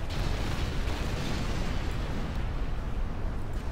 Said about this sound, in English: Something exploded violently.